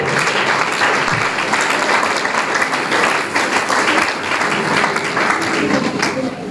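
A church congregation applauding together in sustained, dense clapping that stays loud and even throughout, with voices mixed in beneath it.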